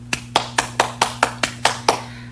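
Clapping closes a children's online church worship service: about nine crisp, evenly spaced claps in a steady rhythm, close and alone with no talk.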